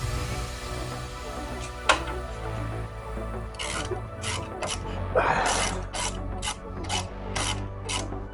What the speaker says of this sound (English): get this oil pan sealing surface cleaned off